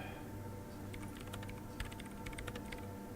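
Quiet clicking of fingers typing on a computer keyboard, scattered irregular keystrokes over a faint steady background hum, nobody speaking.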